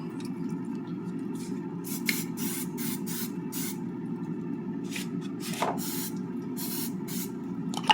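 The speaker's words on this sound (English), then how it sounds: "it's always recommended that you give it a little light spray of cooking oil." Short bursts of cooking oil spray misted into an air fryer before cooking a blooming onion, several quick hissing puffs over a steady low kitchen hum, close and moderately loud.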